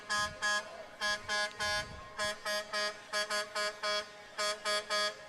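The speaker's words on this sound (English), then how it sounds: "Is that truck honking to Jingle Bells?" A truck horn honks the tune of Jingle Bells at a Christmas parade, a loud series of short and held blasts in the song's rhythm, with no voices.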